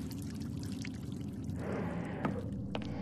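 Water pouring steadily in the adventure game The Cave, a continuous splashing stream that swells slightly partway through, with faint game sounds and no talking.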